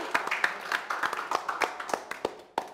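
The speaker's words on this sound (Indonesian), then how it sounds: "Kita kasih tepuk tangan dulu dong buat Angga dan Shenina." A studio audience claps at a live Indonesian entertainment show, sparse and uneven, with individual hand strikes standing out in a short, moderately quiet burst.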